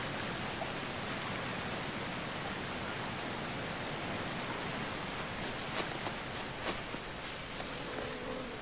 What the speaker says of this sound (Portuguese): Aqui é a praia da cachoeira.